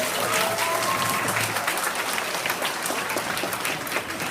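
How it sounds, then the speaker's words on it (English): A school audience claps on request, a dense, steady wash of applause that holds for the whole stretch with a few voices mixed in. "Clap it up. Clap it up. Clap it up."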